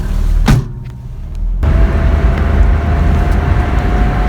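A 1985 Toyota pickup truck on the road, a loud steady engine and road rumble from inside the cab after a brief mechanical thump and a short lull.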